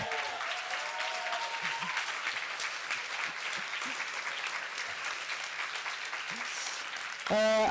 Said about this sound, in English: And I would like a very big applause for Javier Montero